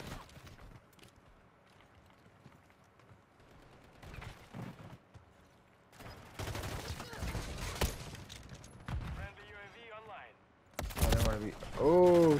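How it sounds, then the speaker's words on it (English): Gunfire in a first-person video game shooter, with bursts of rapid automatic fire and sharp shots in the later half and players talking over it. "Oh, shot me in the back."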